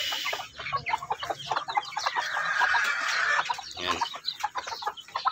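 A native hen and her chicks in a brooder cage, with dense overlapping clucks and high chick peeps close by, continuous and lively throughout, and a brief word spoken.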